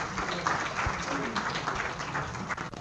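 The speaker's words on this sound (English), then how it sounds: "Round of applause." A lecture audience applauds at the end of a talk on arterial blood gases, with moderate scattered clapping mixed with murmuring voices throughout, fading slightly toward the end.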